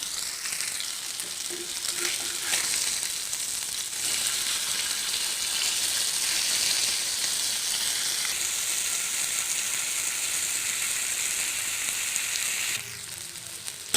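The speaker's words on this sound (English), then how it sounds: "Look at this. Our fish fried well." Fish frying at home in a pan of oil over a low to medium flame gives a steady, dense sizzle that hums unbroken, then drops a little softer near the end. No one talks over it.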